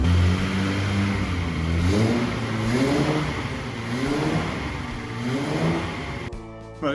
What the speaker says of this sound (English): So we've got the car running and it sounds spot on.